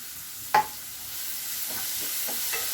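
Onions and tomato pieces fry in a pan for a ridge gourd and tomato curry, making a steady close sizzle with one sharp utensil clink near the start.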